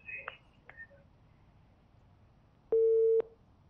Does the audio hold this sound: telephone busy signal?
yes